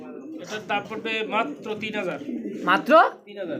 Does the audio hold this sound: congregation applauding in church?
no